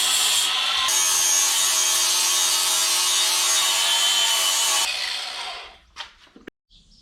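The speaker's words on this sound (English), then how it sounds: "I've ground down my diff straightening welds down to a kind of, got the worst of them off" Power grinder working down TIG welds on a steel differential axle housing, a loud, harsh continuous abrasive roar for about five seconds that then winds down, followed by a few clanks and light handling noises.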